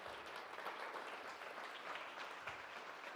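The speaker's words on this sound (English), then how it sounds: "Guys, round of applause for Jeff." Steady audience applause for Jeff Smith, CEO of DC Bank, at the end of a talk: dense, even clapping at moderate distance throughout, with no voices standing out.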